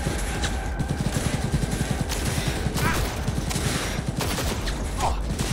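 Rapid gunfire from a video game in Cyberpunk 2077 rattles continuously in dense bursts, loud and close, with occasional sharper hits layered over the stream.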